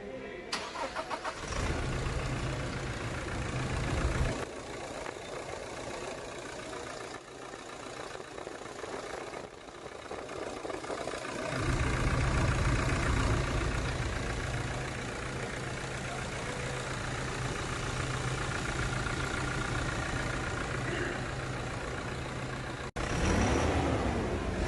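A Toyota Fortuner's 2.8 litre BS6 diesel engine starts up and settles into a steady, fairly loud idle with a low droning hum, heard close in an engine bay, with no talking.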